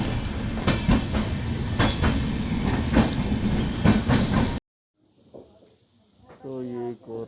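A passenger train pulling out of a railway station on a rainy-season journey from Gonda Junction toward Nepal rumbles and clatters on the rails with rhythmic clicks for several seconds, then cuts off; a voice follows in the quieter part.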